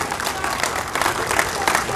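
Crowd applause at a National Night Out press conference honoring law enforcement agencies, a dense, steady burst of clapping from a gathered audience, loud and continuous throughout.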